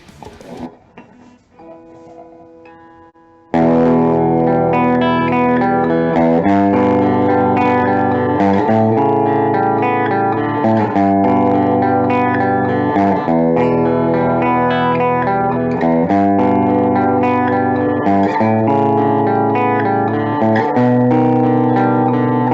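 Electric guitar with a brand-new D'Addario set of 10-gauge strings, played with heavy distortion and effects, a brief quiet picking intro and then loud sustained chords ringing out continuously.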